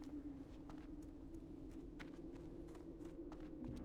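Soft, rapid footsteps from a World of Warcraft character run along steadily under a low, constant background hum, faint and evenly paced throughout.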